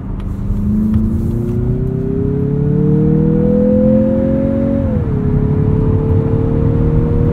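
A 2023 Mazda CX-50 drives and accelerates, its engine tone climbing steadily under constant road and tire roar, then dropping briefly at a shift before holding steady, heard loud from inside the cabin.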